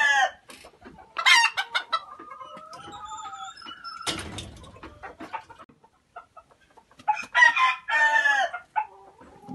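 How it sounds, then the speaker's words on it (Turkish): Sultan ornamental chickens in a coop cluck and squawk in scattered bursts, with a rooster crowing through the middle; close and lively, no one speaking. "Bu benim kümesimde 3 grup sultan var."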